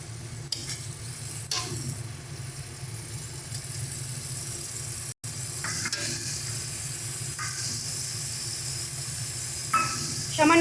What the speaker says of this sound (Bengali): এবার এর মধ্যে দিয়ে দেবো টমেটোর পেস্টটা। ফেটিয়ে রাখা টক দইটা দিয়ে দেবো।